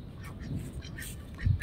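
Ducks quack near their house in a rural yard, a few low, nasal quacks over a steady outdoor hum, the loudest one coming near the end.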